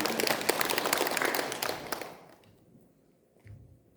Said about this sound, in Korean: 자원봉사하시는 네 분에게 큰 찬탄의 박수 부탁드리겠습니다